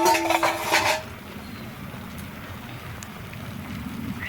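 A cooking pot of red lentils has its lid lifted: a brief metallic clatter and scrape of the lid for about a second, then a soft, steady bubbling and simmering hiss.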